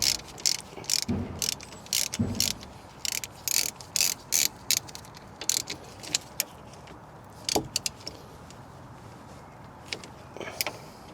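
Ratchet with a 12mm socket tightening brake bolts during a disc and pad replacement on a Ford Fiesta Mk6/Mk7, rapid close clicking bursts in short uneven runs with pauses between strokes.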